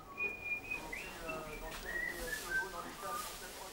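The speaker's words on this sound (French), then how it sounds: "Dans le box, on commence d'abord par siffler." Person whistling inside a racehorse's stall, a few thin sustained and sliding notes, moderately near and soft, against a noisy background with a narrator's voice talking underneath.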